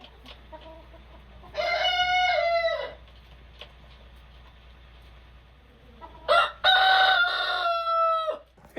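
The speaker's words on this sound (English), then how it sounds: "Who's going to crow better?" Two Barred Rock roosters on a snowy farm crowing one after the other, each call a loud drawn-out cock-a-doodle-doo lasting over a second, with quiet clucking and faint rustle between.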